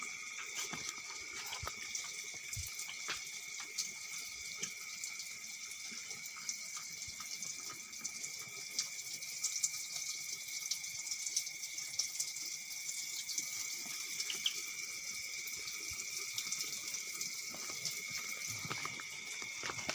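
Water runs steadily from a sacred spring at a holy burial site in Sumedang, a continuous soft splashing and trickling stream heard close by with no talking.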